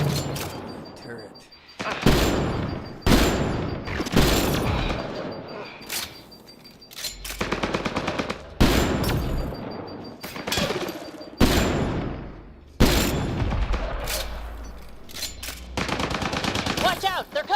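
Rapid bursts of turret gunfire in the video game Mass Effect Andromeda, loud and close, coming in repeated volleys separated by short pauses, with voices talking in between.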